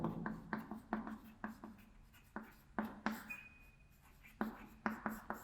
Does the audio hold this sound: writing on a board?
yes